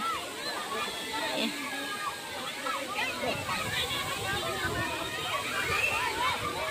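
Muddy water churns and sloshes in the pool below Jalbire waterfall, a steady, dense rushing wash that fills the whole clip, with voices mixed in beneath it.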